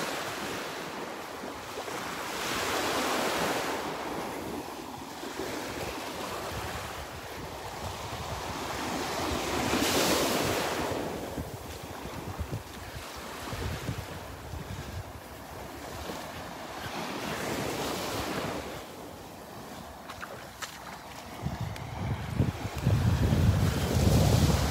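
Ocean waves roll onto the beach at Delnor-Wiggins in a steady rhythm of rising and falling surf washes every few seconds, with heavy wind buffeting the microphone throughout and no talking.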